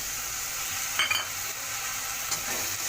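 Ground spices such as coriander, cumin, turmeric and chilli fry with peas for ghugni, giving a steady soft sizzle with occasional scraping stirs of a spoon across the pan and no talking.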